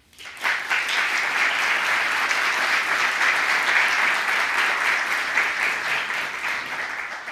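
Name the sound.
audience applause for the mayor of Valencia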